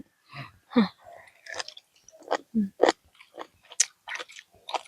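Someone bites and chews a crunchy, spicy squid tentacle salad close up, giving sharp separate crunches in an uneven rhythm with short pauses between them.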